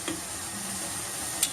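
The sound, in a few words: boiled cassava (mogo) frying in a pan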